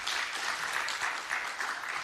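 Audience applause at the launch of an economic report in Malawi, a dense, even patter of clapping across the whole stretch with no voices.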